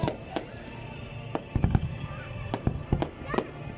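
Fireworks cracking and popping in Khorfakkan, Sharjah, UAE, several sharp bangs at irregular intervals, some distant and some closer, with a few voices in the background.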